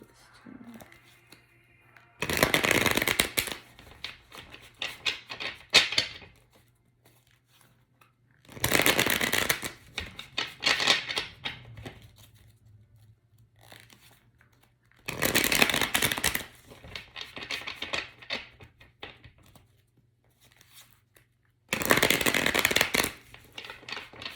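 Four bursts of tarot card shuffling, each a crisp rapid riffle lasting a couple of seconds, separated by quiet pauses with faint handling noise.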